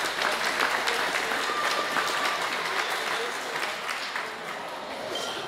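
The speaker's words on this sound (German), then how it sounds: "ja, gibt es einen Applaus für Lukas." Audience applause for Lukas Donner at a Gstanzl folk-singing event in Pielachtal, a steady dense clapping that fills the hall for about five seconds and eases slightly toward the end.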